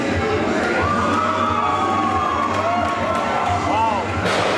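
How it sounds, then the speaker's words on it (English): Crowd at an NAPW pro wrestling show cheering and shouting steadily throughout, loud and dense, with occasional whistles and a brief burst near the end. "he's got this crowd completely fired up"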